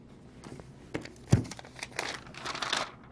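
A sheet of paper is crinkled and handled up close in a few short rustling bursts, with no voices.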